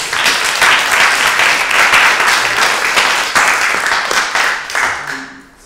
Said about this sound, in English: Can we get one more round of applause for all the panelists?